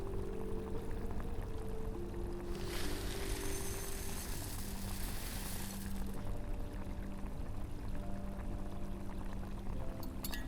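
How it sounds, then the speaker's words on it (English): Moon water is poured and mixed with powdered lichen in a forest potion-brewing roleplay, a soft, continuous trickling splash lasting a few seconds amid quiet outdoor ambience and gentle handling noises. "Mix moon water and powdered lichen."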